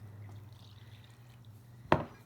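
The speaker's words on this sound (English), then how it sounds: "We're going to add our water in" Water added to a bowl of masa flour and salt for homemade tortillas, heard as a single short splash near the end after a low steady hum, close and fairly loud against a quiet kitchen.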